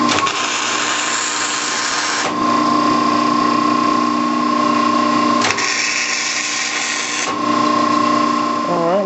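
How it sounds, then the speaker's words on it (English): A power drill biting into a steel top piece for a jon boat in a workshop, a steady loud whining grind that pauses and restarts twice, with a faint voice near the end. "we're fixing to drill this top piece here"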